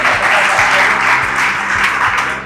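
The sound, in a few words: applause for a quiz contestant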